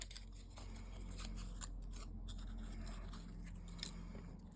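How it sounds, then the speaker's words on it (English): Vellum paper being creased and folded in half, a quiet, steady crisp rustle with faint sharp crackles scattered through, heard up close. "So I'm creasing and folding them in half."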